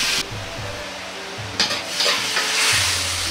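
Meat and vegetables sizzle and crackle in a hot pan while a utensil stirs and scrapes in short strokes, coating them in oyster sauce, close by with no talking.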